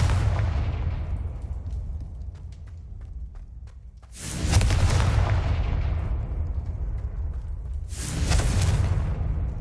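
Two heavy blasts from the Confringo fire spell in Hogwarts Legacy, each a sudden loud burst with a long rumbling decay, a few seconds apart over a quiet low background.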